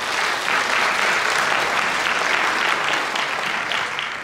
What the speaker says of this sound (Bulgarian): Вашите аплодисменти за Борислава и Крил